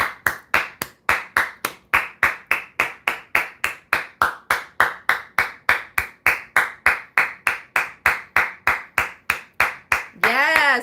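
A single pair of hands claps in a steady, even rhythm, about four claps per second, close and crisp, ending with a brief burst of other noise.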